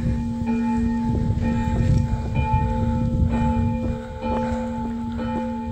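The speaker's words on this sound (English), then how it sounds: "If you want to ring the bell" Church bell rung by hand in an abandoned 16th-century church in Slovenian woodland, a sustained clanging peal with steady ringing overtones and repeated strikes throughout.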